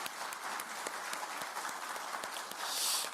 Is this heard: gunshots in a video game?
no